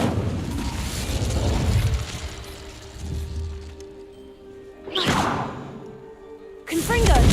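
In Hogwarts Legacy, the Incendio fire spell goes off as sharp whooshing bursts with booming impacts, spaced apart amid ongoing game noise.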